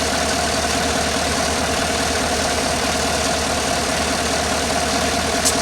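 A GMC pickup's 5.3 LS V8, suspected of a bent pushrod, idles steadily with a constant low rumble and even ticking texture, loud and unchanging throughout.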